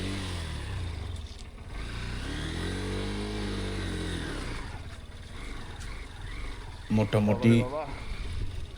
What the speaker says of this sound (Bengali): সর্বোচ্চ থ্রোটল দিয়ে এখন বাইকটা তোলার চেষ্টা করছি।